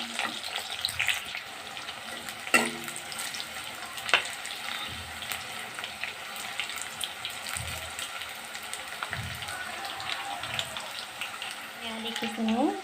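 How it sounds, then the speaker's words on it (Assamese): Banana chips fry slowly in hot mustard oil, a soft continuous bubbling sizzle at low level with occasional light clicks, running alone throughout. "এয়া ৰঙচুৱা হোৱালৈকে ভাজি থাকিব"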